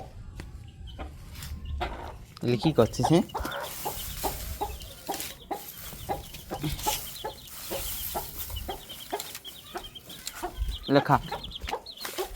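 A farmyard hen clucks repeatedly in short bursts close by, with a rooster-like call and brief talk in the background, amid outdoor rural ambience.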